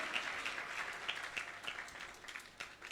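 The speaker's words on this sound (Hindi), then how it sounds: "Come on, clap your hands for Jesus." Church congregation clapping hands for Jesus during a Holy Communion service, steady rhythmic clapping that sounds somewhat distant and soft with roomy reverberation.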